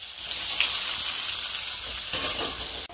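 Chopped onion dropped into garlic frying in oil for a home-cooked duck curry, giving a loud, continuous hissing sizzle that swells briefly near the end.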